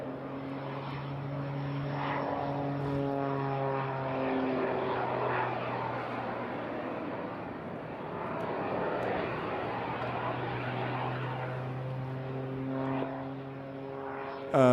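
A propeller-driven aerobatic aircraft performing at the Eastbourne International Airshow, its engine droning steadily and shifting in pitch as it climbs and dives, moderately distant, with faint crowd or commentary underneath.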